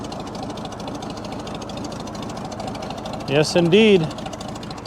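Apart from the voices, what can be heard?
1937 Oliver Hart Parr 70 tractor engine running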